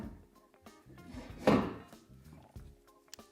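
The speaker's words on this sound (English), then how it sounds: "Let me see if I can get these bolts into place." Bolts for Westin Outlaw drop running boards being fitted into place, a few close metallic clunks and one louder thunk amid light handling noise, with no talking.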